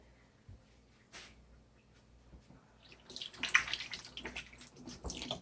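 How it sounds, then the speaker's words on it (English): A kitchen tap runs as a hand is rinsed of gritty residue, quiet trickling at first, then a louder splashing stream in the last couple of seconds, with no talking. "Let me rinse my hand real quick."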